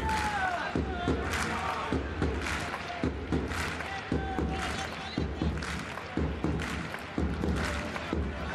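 A football stadium crowd murmurs and swells ahead of a corner kick at a Getafe versus Real Valladolid La Liga match, the low roar rising under steady commentary.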